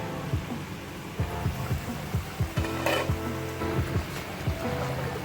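Chicken kofta meatballs cooking in a pan give a low, even sizzle, broken by a run of regular soft knocks and clinks from the pan, close by with no talking.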